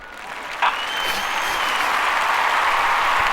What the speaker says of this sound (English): There we go, that's the applause done.